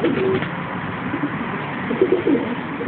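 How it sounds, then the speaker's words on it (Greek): Pigeons in a Greek fancier's loft, including newly bred birds, coo in soft low murmurs that swell briefly near the start and again around the two-second mark over a steady background hum. "Τα καινούργια περιστέρια του"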